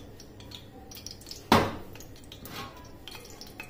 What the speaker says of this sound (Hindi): फ्लेम पर प्रेशर कुकर रखना है और इसमें ½ कप ऑयल डाल देना है।